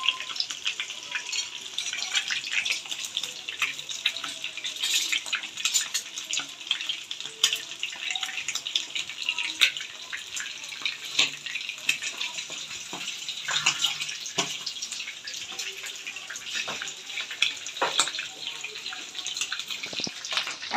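Chicken frying in hot oil, a steady bright sizzle with dense popping crackles that continues loud and close throughout, with no talking.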